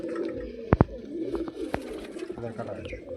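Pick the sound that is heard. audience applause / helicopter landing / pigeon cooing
pigeon cooing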